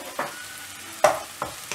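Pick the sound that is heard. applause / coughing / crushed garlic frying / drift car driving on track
crushed garlic frying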